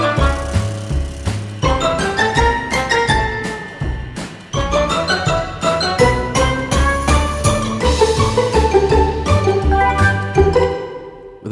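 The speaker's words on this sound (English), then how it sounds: "with a nice offbeat cymbal crash there." ProjectSAM Lineage Percussion playing with a full orchestral arrangement: dense rhythmic hits and accents, with an offbeat cymbal crash ringing over the busy, loud texture.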